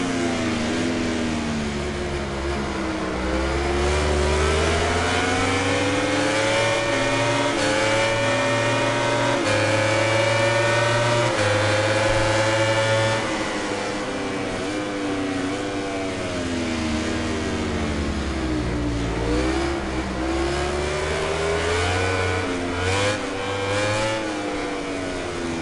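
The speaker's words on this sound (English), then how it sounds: "I'm on the Suzuki bike now" A Suzuki racing motorcycle engine in the MotoGP 19 video game wails continuously, its pitch climbing through the revs, dropping at gear changes and rising again as the bike accelerates, loud and steady throughout.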